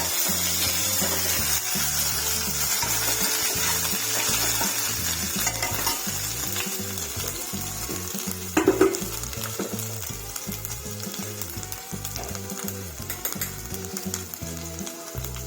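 A homemade vada pav spice masala is stirred in a hot pan in a village kitchen, a steady close sizzle with frequent scraping spoon strokes and one louder clatter midway, no voices.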